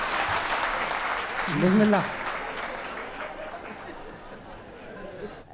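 Applause from the audience at a ghazal recitation spreads as a broad wash of clapping. A voice speaks briefly over it, and the clapping fades toward the end.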